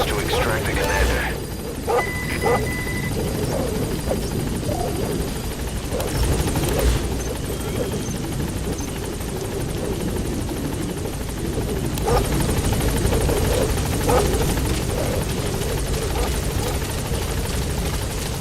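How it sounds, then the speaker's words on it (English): A support helicopter in the Metal Gear Solid V video game hovers close by, with a loud, continuous rotor thrum and engine drone that holds steady throughout while game voices speak over it. "Support helicopter has arrived."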